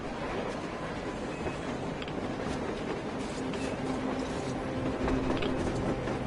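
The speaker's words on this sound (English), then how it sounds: "A train! A damn train on the surface!" A train rolling past on the surface in the Metro video game, heard as a steady mechanical rumble with faint clanking that builds slightly toward the end, with no speech.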